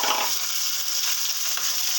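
Onions frying in a wok (kadai) for chilli fish, a steady crackling sizzle of hot oil with faint stirring scrapes, close and continuous with no talking.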